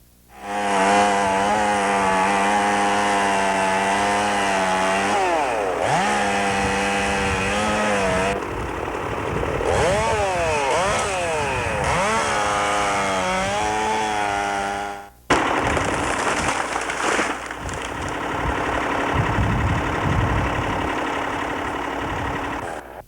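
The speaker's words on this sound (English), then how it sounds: "Very few places today can saw planks from logs this size." A large log is sawn into planks at a lumber mill in Pembroke. A loud, steady machine whine with shifting pitch runs for about fifteen seconds, then breaks off and resumes more roughly, with no talking.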